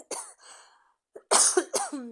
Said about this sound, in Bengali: আমার একটু ঠান্ডা লাগছে কাশি কেশি আসতেছে